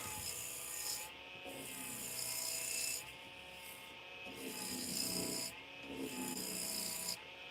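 A carbide scraper worked by hand along a wooden edge, giving rough rasping strokes in several long passes with short pauses between them, close and fairly soft, with no talking.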